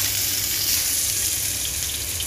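Chicken stir-frying with lemongrass and chili in a pan gives a steady, close hiss and sizzle with no breaks and no talking.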